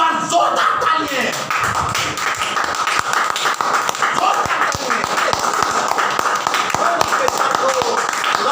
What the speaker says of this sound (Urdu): ایک بار زوردار تالیاں